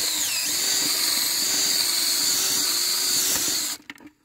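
A power drill bores steadily into soil to pull up dirt for a soil sample, its sustained whirring hum running close and loud for several seconds before cutting off abruptly.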